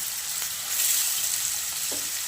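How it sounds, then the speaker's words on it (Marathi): Potato pieces fry in ghee with a steady, close hiss of bubbling fat that swells slightly midway, heard alone with no talking. "बारीक कापून घ्यायचा आणि तळून घ्यायचा मस्त बटाटा"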